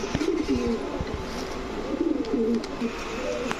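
Racing pigeons of the sobji racer variety, an anar-eyed cock and hen pair nesting and about to lay, coo in repeated rolling phrases close by, with soft wing and cage noises and no talk.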